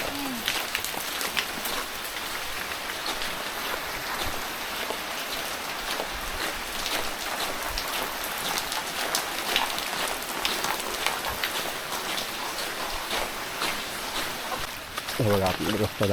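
Steady, dense rain hisses on surfaces all around in a Konkan village, continuous and fairly loud, with voices talking faintly underneath.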